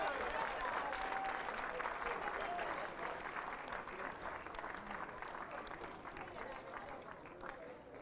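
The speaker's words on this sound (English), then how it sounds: "And a big round of applause, ladies and gentlemen, boys primary school." Sustained audience applause at a tennis award ceremony honoring primary school boys' champions, dense steady clapping filling the whole stretch with a slight fade toward the end and murmurs of voices mixed in.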